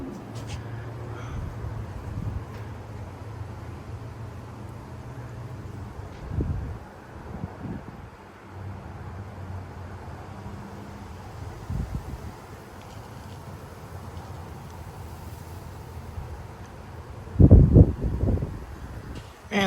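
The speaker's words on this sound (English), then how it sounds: "35 mile-an-hour wind gusts." Strong wind gusts from the outer bands of a severe thunderstorm in Frisco, Texas, roar and buffet the microphone, swelling in waves. Trees thrash and rustle, and a hard gust peaks near the end.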